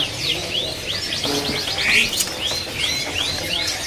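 A white-rumped shama, the Palangka murai batu, sings at a bird kiosk, repeating rising and falling whistled phrases in quick bursts over a busy background of other chirping birds, with no voices.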